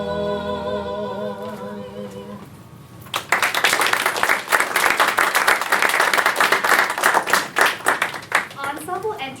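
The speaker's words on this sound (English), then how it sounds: "Lincoln doffs his cap to receive their loud applause" Loud stage applause from an audience greeting the Lincoln character in a musical staged reading at a restaurant, dense clapping surging in after sung music fades and holding strong with scattered cheers.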